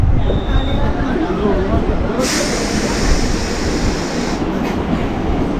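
A MEMU passenger train on the Rajahmundry to Vijayawada route rumbles past close by, a steady loud roar of wheels on track with brief metallic squeals, no talk.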